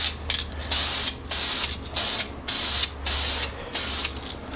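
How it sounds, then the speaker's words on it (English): Red Duplicolor caliper paint sprayed onto a brake caliper on a workbench: about six short, close hissing aerosol bursts in a steady rhythm, separated by brief pauses with no talking. "Duplicolor caliper paint, red."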